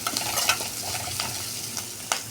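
Onion, garlic and green chilies sauté in an oiled pan with a continuous close sizzle and several quick scraping stirs, no talking.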